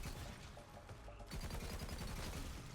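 A Butcher shotgun fires at a very fast rate in the video game Borderlands 3, producing a dense, rapid string of punchy shots that grows louder and tighter midway through.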